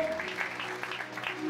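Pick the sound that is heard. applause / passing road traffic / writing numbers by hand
applause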